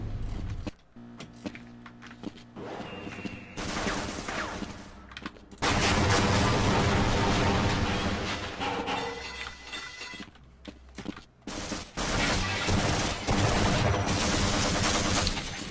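Gunfire in Half-Life: Blue Shift, with loud bursts of automatic shots and shattering impacts that come in and out across the scene, broken by short quieter gaps.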